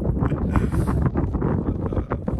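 Cold, salty wind blows at a small harbour in Kinsale, County Cork, buffeting the microphone with constant, loud, gusty rumble and no voices.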